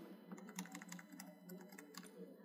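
Steady, close typing on a computer keyboard as Java loop code is entered during a multithreading programming tutorial, with quick, even clicks and no talking.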